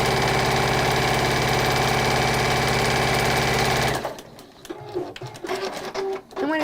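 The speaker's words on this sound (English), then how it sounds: "And I'm just going to stitch along there." A sewing machine stitches fabric in a fast, steady mechanical whir that runs loud and unbroken for about four seconds, then stops abruptly as a voice talks.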